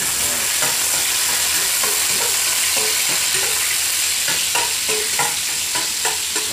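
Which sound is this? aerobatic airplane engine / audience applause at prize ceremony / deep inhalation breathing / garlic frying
garlic frying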